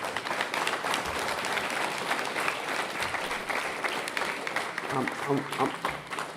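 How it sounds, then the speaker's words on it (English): Applause from the audience at a regular school board meeting fills the room steadily from start to finish, with a few voices mixed into the clapping. "We don't generally applaud at board meetings."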